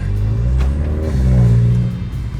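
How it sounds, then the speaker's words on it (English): A small turbocharged sedan engine idles close by with a low, steady purr that swells slightly, as if lightly revved, then settles, heard alone without talk. "And that little engine just purrs."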